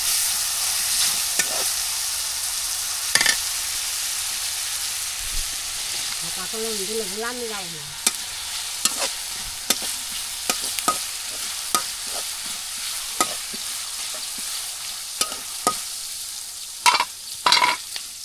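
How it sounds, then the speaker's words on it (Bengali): Onions frying in a pan over a clay village stove in Bangladesh, a steady sizzle broken by sharp scraping stirs throughout, close and moderately loud, with a brief short voice-like sound partway through. "তো খুব সুন্দরভাবে পেঁয়াজগুলো একটু ভেজে নিই আমরা।"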